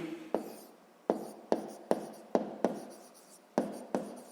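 Pen or pencil strokes on paper during a sixth-grade maths exercise, landing as a series of sharp, close taps and short scratches at irregular intervals, with no voices.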